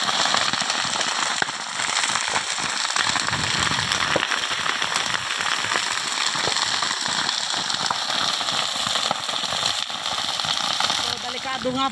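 Burning yard debris crackles and pops steadily in a dense, continuous stream, with a few louder snaps, as ground is cleared for planting bitter gourd before the rainy season; a voice may be faintly present.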